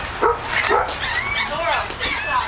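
Dehydrated dogs bark and whimper during a rescue, giving sharp yips and whines in quick bursts close by. A person talks over them at the same time.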